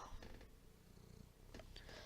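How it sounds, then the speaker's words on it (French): A cat purrs softly and close by, a faint, continuous low rumble with a few small rustles. "Désolé si vous entendez des ronronnements, c'est mon chat."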